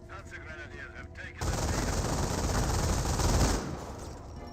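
Machine gun fire in Company of Heroes, a .30 cal hitting an MG42 position, erupting as a sustained loud rattling burst after a quieter stretch with a voice, then tapering off.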